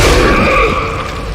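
An alien's belly bursting in Dead Space 2, a loud close boom with a grunting, gurgling tail that fades over about a second, no talking.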